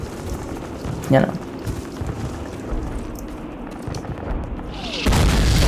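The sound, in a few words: mortar explosions in video game Call of Duty 1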